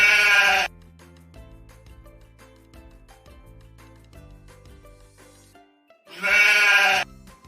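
Two loud, close sheep bleats open and close the stretch, with gentle plucked background music playing between them.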